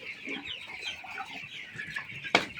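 Young chicks kept on bedding at a small poultry setup peep and cluck in a steady, high chatter close by, with a sharper louder call near the end.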